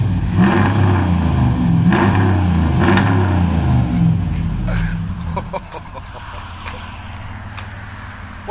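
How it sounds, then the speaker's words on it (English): 2017 Ram 1500 pickup truck engine revving, a deep, loud rumble that climbs and falls in pitch over several seconds before cutting to a quieter idle, with scattered voices and clicks near the end. "There's my truck."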